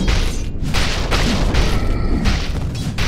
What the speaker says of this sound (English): Dire's top tower just fell.